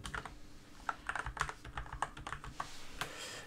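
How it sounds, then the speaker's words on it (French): Fast, uneven typing on a computer keyboard during an online card game, close and moderately loud, with clustered key taps and brief pauses. "faut que je tape le ADA devant, peut-être."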